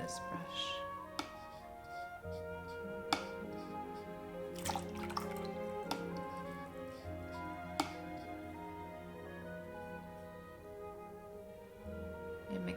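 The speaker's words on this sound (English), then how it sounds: "Let's see if I can squeeze the water out of this brush." Water squeezed from a paintbrush during watercolour painting with pale mint paint drips down in a few sparse, soft plinks over a steady tonal background.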